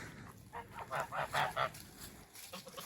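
Geese honk outdoors in a village farmyard: a short series of nasal honks, moderately close but fairly quiet, with no speech.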